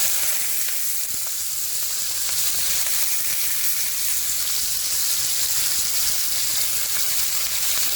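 Beef for caldereta frying in a pan, a loud, dense, continuous sizzle with bright hissing and faint crackles, close up and steady throughout with no one talking.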